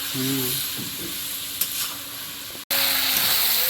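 Potatoes are sautéed with spices in a pan, giving a loud, steady sizzling hiss close up. The hiss drops out for an instant and then resumes, and a brief faint tonal sound is heard near the start.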